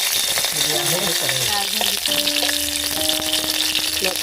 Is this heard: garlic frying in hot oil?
yes